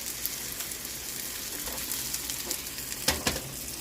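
Breaded salmon fillet sizzling steadily in a frying pan on the stove, a dense continuous crackle with a few faint utensil taps, no voices.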